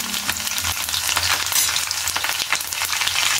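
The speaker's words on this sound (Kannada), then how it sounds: "ಸಾಸಿವೆ ನೋಡಿ ಚೆನ್ನಾಗಿ ಸಿಡಿತಾ ಇದೆ." Mustard seeds and crushed garlic frying in hot oil for a mango thokku, a loud continuous sizzle with crackling pops close by, and no talking.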